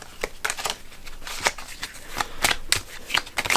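A deck of tarot cards is shuffled close by in a quick series of crisp riffling bursts, about a dozen sharp flutters over a few seconds.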